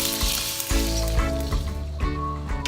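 Ground pork frying in a pan for Chinese-style okra gives a steady close sizzle, broken by a few sharp bursts where the meat is stirred or turned, with no voices.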